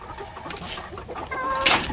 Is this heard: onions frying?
no